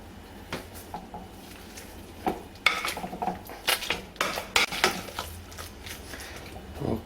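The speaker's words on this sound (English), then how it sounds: "And now we get mashing." Potatoes are mashed by hand with sour cream, milk and butter or margarine, producing irregular thuds, squelches and metallic clanks of a masher against the pot, close and moderately loud.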